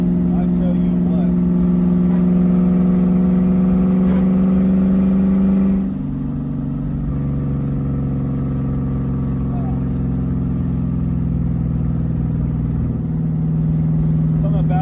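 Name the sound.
2001 Mustang GT built V8 engine running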